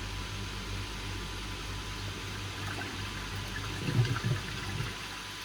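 Water swills and sloshes inside a Nexus koi pond filter during cleaning, a steady broadband wash with a brief louder surge near the end.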